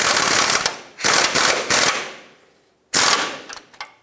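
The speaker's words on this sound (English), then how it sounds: "put a 24 socket on the nut side and tighten these up" Ratcheting wrench with a 24 mm socket tightens a bushing bolt nut on the front lower control arm of a 1996-2002 Toyota 4Runner. Fast metallic clicking comes in several close bursts, then a pause, then one more burst, with no talk.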